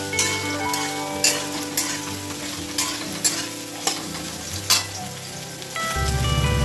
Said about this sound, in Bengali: সাদা তেল দিয়ে আমি সয়াবিনগুলো একটু ভালো করে ভেজে নেবো